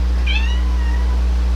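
A cat gives a single short meow, close and clear, over a steady low hum.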